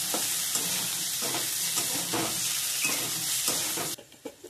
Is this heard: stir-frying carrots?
yes